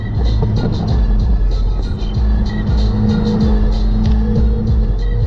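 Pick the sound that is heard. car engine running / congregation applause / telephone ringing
car engine running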